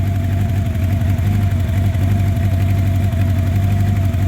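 1984 Honda CB700SC Nighthawk motorcycle engine running on choke while warming up, a steady close-up idle with an even low rumbling pulse and no talking.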